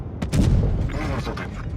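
Tank cannon fire in World of Tanks Blitz, 10-versus-10 mode, giving a heavy booming shot with a rumbling low-end tail and scattered crackling impacts, loud and close.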